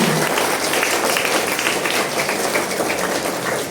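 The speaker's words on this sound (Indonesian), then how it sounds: "tepuk tangan untuk semangat kita pada malam hari ini" Scouts and primary-school children at a night campfire ceremony clap together in a dense, steady wash of applause that runs evenly through the whole stretch.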